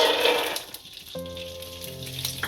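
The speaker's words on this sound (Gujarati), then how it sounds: "આપણું તેલ સારી રીતના ગરમ થઈ ગયું છે આમાં હવે તુવેરના દાણા નાખીશું" Green pigeon pea beans hit hot oil in a pan with a loud, hissing sizzle that fades after about a second, leaving a quieter fry under steady background music.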